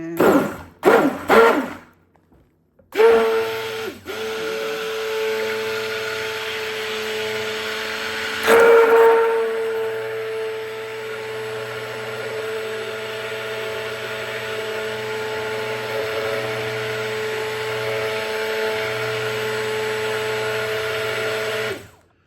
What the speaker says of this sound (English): emulsify it with my immersion blender